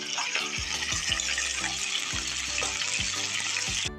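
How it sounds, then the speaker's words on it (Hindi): Chicken frying in ghee in a kadai for a village-style chicken korma gives a loud, steady sizzle, with a few low knocks and stirring thumps spaced through it. "हम चिकन लेंगे और इस तरह कढ़ाई में डालेंगे।"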